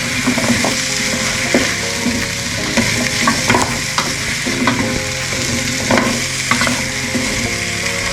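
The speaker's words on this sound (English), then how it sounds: "I'm just going to bung that in as well, or pop that in as well. and give that a stir around." Sweet potatoes being stirred in a soup pot, with a continuous hiss of sizzling under repeated scraping and knocking of the spoon against the pot, close and loud throughout.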